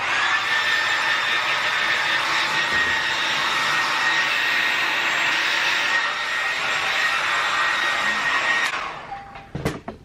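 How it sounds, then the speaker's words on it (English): A small handheld hair dryer blow drying hair, a steady loud whirring roar held close for about nine seconds before it cuts off with a couple of clicks. "So I'm just going to blow dry my hair quick."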